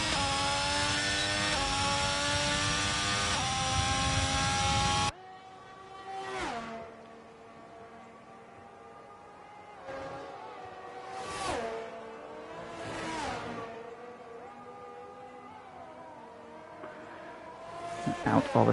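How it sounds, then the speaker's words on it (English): A Ferrari Formula 1 car in a racing game threads through the Lesmo corners at Monza, Italy. A loud, steady engine scream for the first seconds gives way to quieter revving passes beneath a commentator's voice. "Into the Lesmos comes the Ferrari"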